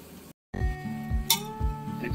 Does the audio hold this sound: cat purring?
no